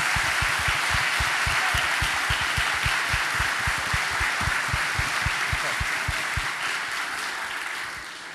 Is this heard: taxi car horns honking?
no